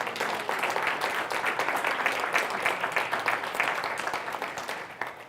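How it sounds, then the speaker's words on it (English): Applause from a conference audience at a Joomla community event in Denver, a steady dense patter of many hands clapping at a moderate distance that holds evenly throughout. "Cliff, big hand of applause"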